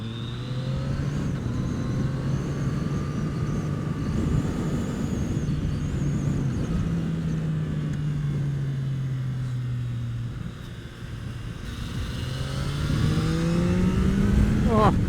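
Yamaha MT-09 motorcycle accelerating hard with the front wheel lifting, a steady loud engine drone rising and falling in pitch through gear changes, with a stronger rising rev near the end.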